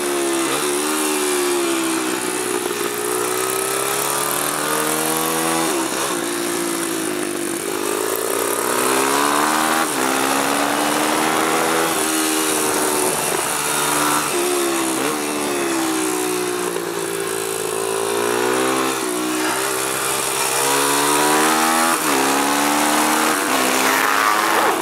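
A Kawasaki KLX170 supermoto motorcycle engine screams through race practice, loud and close, its pitch rising and falling repeatedly as the rider shifts and throttles through corners, with no speech over it.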